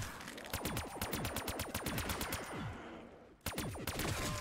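Man o' War rifle fire in Black Ops 3 Zombies rings out in fast, evenly spaced repeated shots, loud and close, with a brief pause before another burst.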